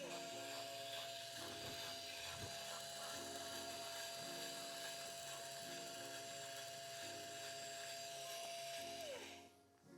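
A 3BOMBER Sniper coffee grinder grinding beans, a steady whining motor hum with a sustained high tone and faint rattling of grounds, running continuously before winding down near the end.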